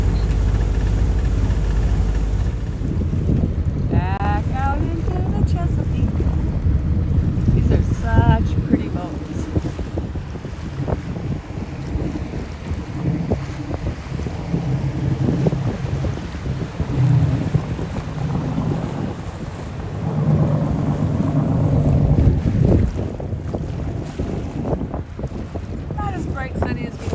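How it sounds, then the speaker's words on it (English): Strong wind buffets the microphone while sailing a catamaran on Chesapeake Bay, a steady loud rush over boat and water noise that swells and eases throughout. "sunny as we like, but clouds bring wind. Wind makes us happy."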